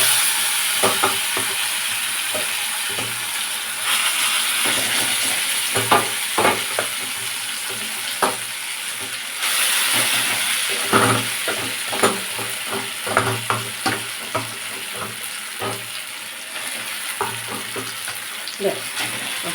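Boiled vegetables for a spinach ghonto hit hot oil with tempering spices, giving a steady, close sizzle. Spoon or spatula scrapes and knocks against the pan come at irregular intervals throughout.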